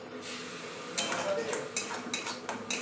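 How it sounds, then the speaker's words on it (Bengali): Food is stirred in a pan while cooking in a home kitchen, with quiet metallic clinks and scrapes of a utensil against the pan, a few sharper knocks near the end, and faint background sound. "এবার নাড়াচাড়া করা হবে।"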